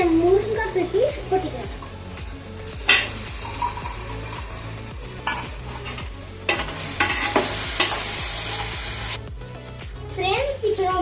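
Sautéing in a pan for a Tamil dry fish curry: steady frying sizzle with repeated spatula scrapes and stirring strokes, while a voice talks over parts of it.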